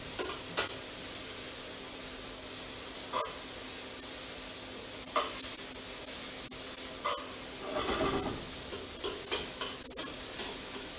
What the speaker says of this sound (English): So I always like to separate the onion when I'm cooking it,